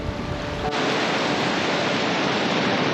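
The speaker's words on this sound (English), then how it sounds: "We got all these little mini waterfalls cascading down towards the rocky foreshore." Small waterfalls cascade down onto a rocky foreshore along the Ballycotton cliffs beside a rough sea, a dense continuous roar of falling water and surf, steady and loud throughout.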